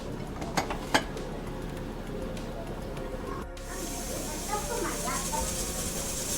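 Steam hisses loudly and steadily from a pressure cooker on the stove while bagara rice cooks, beginning suddenly partway through after a few sharp clatters and continuing to the end.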